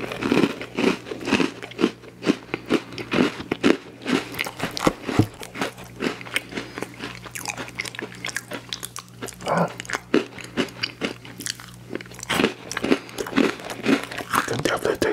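Close-up crunchy biting and chewing of cookies with peanut butter and chocolate filling, a dense stream of crisp crunches and wet mastication throughout, with faint crinkling of packaging and a steady low background hum.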